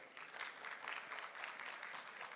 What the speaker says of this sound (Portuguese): Receba os aplausos, Cadu.